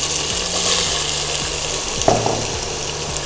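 Onions sizzling in a pan with ginger garlic paste for Hyderabadi chicken haleem, a steady close frying hiss with a few scraping stirs and light clatter of utensils.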